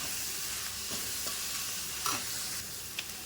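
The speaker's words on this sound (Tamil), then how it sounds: "ஒரு மூணு பல் பூண்டு கொஞ்சம் இஞ்சி தட்டியிருக்கிறேன் அதையும் போட்டுக்கிறேன் போட்டு அதையும் வதக்கிடலாம்" Steady sizzling of crushed garlic and ginger frying in a hot pan, with a few light stirring clinks, close and continuous without any talking.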